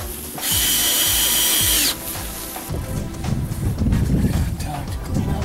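A power drill drives screws while a boat portlight is rebedded with caulking: a steady high whine for over a second, then stuttering bursts of drilling mixed with rattles and handling noise, up close.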